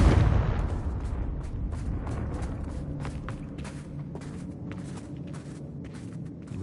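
A Confringo blasting spell detonates in a video game: a loud, close blast opens, then gives way to a continuous rumble scattered with crackling debris and sharp pops that slowly settle.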